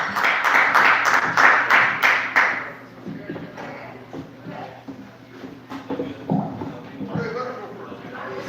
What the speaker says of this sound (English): Clap it up for Era